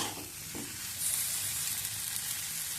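Potatoes frying in hot oil in a pan just after a splash of water for dum aloo, a steady bright sizzle with a surge of hissing about a second in and light stirring scrapes, fairly close and continuous.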